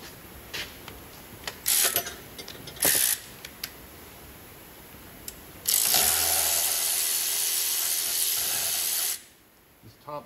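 Ratchet with an 8mm socket and extension working the coolant reservoir bolts on a 1999-2003 Ford 7.3 Powerstroke, a few short clicking bursts followed by a longer, louder sustained ratcheting run.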